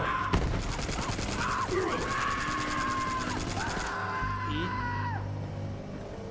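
Enemy gunfire in Borderlands 3 co-op play, a rapid stream of loud shots rattling for several seconds amid whirring game effects and chirpy creature sounds, with a player talking over it.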